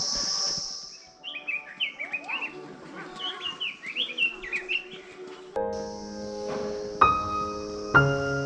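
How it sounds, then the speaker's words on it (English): Birds chirp and tweet in quick, scattered bursts, a bright twittering chorus at moderate distance, followed by a steady tonal hum. "the chirping of birds"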